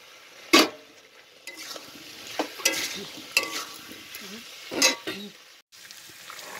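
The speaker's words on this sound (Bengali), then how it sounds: "আমি এবার ওর মধ্যে ভেজে রাখা আলুগুলো এবার ছেড়ে দিচ্ছি।" Fried potatoes tipped into a sizzling spice masala in a kadai and stirred, bursts of loud sizzling and scraping strokes recurring over a quieter hiss, close by.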